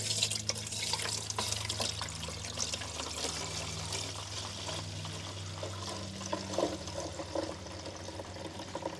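Distilled water poured to top up a fluid level while working on a 1986 Chevrolet Monte Carlo SS, a faint, soft trickle and splash over a low steady hum, with no talking.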